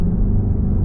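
Lamborghini Urus engine and exhaust during a downshift, a loud, steady low rumble close by with no voices.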